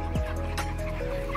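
Chickens on a poultry farm, a brief close cluck followed by fainter clucking against a steady background hum.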